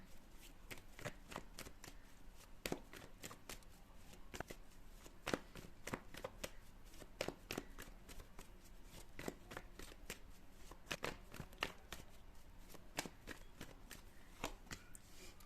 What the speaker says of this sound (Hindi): तो सबसे पहले मैं आपके लिए कार्ड निकालूंगी